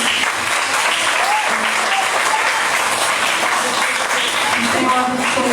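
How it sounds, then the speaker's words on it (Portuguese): A crowd at a church women's gathering applauds, dense steady clapping that fills the whole stretch with loud, even intensity, with voices faintly mixed in. "Tem uma salva de palmas, Senhor."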